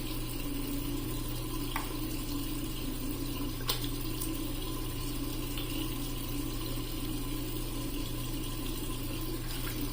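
Tap water runs steadily from a faucet into a sink while shaving lather is rinsed off, a constant close rush with a few faint clinks over it.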